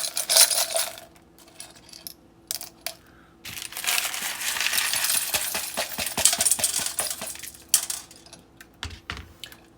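Rocks and small pieces of petrified wood clatter into a rock tumbler barrel, with bursts of sharp clicking and knocking and a dense run of rattling in the middle, then quieter pauses; no one speaks.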